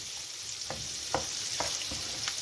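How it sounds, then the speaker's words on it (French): Salmon fries in butter and oil in a pan, producing a dense, even sizzle with a few soft, evenly spaced taps from a utensil. "vous faites cuire votre saumon, qu'il ait une belle coloration"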